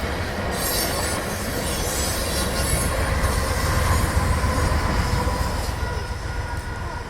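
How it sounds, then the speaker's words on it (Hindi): A train rolling past a railway level crossing where vehicles and pedestrians wait at the gate, a loud steady rumble of wagons with wheel squeal and clatter, close by and continuous. "यहाँ पे फाटक पे गाड़ियाँ और सारे जो है पैदल चलने वाले लोग वेट कर रहे थे कि ट्रेन ख़त्म हो"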